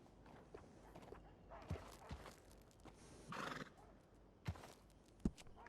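Horse whinnying and snorting at a stable in the video game Red Dead Redemption 2, a few short neighs and hoof clops at moderate distance over a quiet background.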